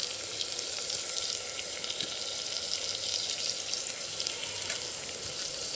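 Onions and tomatoes sauteing in a pan for a goat intestine gravy, giving a steady, close sizzle and crackle of frying that runs unbroken throughout with no talking.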